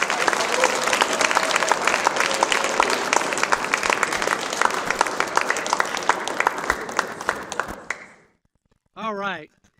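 Loud audience applause at a comedy showcase, a dense round of clapping with some cheering that holds strong, then cuts off sharply, followed by a brief burst of a voice after a short pause.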